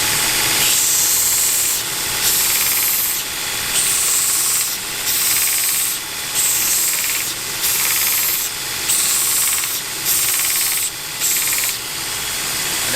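Sanding the corners of a wooden crook knife handle for spoon carving, with steady rhythmic rubbing strokes repeating about every second, close and fairly loud with no talk.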